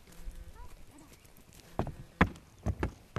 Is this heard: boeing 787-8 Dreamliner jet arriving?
no